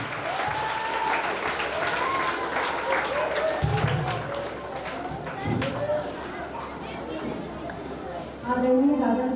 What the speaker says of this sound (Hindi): एक बार जोरदार तालियां बजती रहनी चाहिए